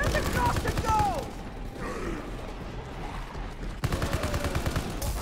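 Gunfire in Call of Duty: WWII Nazi Zombies, with rapid shots before and after a brief lull, mixed with mechanical clanks and player voices talking.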